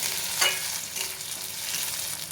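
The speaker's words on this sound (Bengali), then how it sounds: "এবারেতে আদা কাঁচা লঙ্কা বাটা দিয়ে দেবো এবার মশলাটা খুব ভালোভাবে কষিয়ে নেব" Ginger and green chilli paste fries in hot oil as masala for a Bengali katla fish curry, a close, constant sizzle with one brief spatula scrape near the start.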